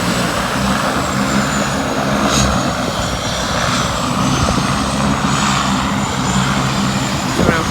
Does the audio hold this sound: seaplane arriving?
yes